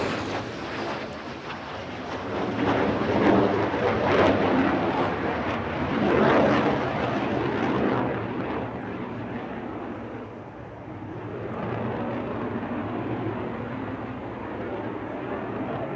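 Lockheed Martin fighter jet performing a flying display at the Farnborough airshow, a loud sustained engine roar that swells and fades as the aircraft manoeuvres, heard from a distance.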